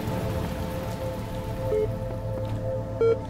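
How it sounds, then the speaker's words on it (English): In the video game The Talos Principle, rain falls in a steady hiss of drops on surfaces, heard up close over a low droning game ambience with a couple of brief tonal beeps. "Again rain."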